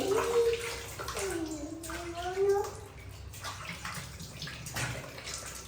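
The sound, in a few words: water poured while bathing someone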